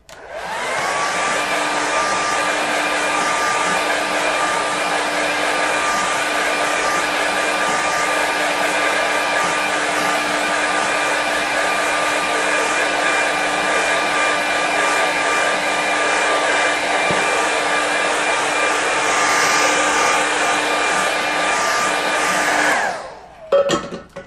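A hair dryer blows on a watercolour painting for over twenty seconds, a loud steady whine and rush of air that cuts off abruptly at the end.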